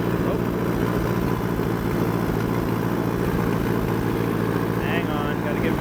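An old Allis-Chalmers D14 tractor pulls a brush hog through high weeds and multiflora rose, its engine a steady, close, rumbling drone with mower churn, someone talking over it.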